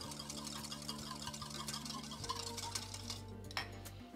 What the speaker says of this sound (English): I'm just going to give this one more whisk to make sure everything is super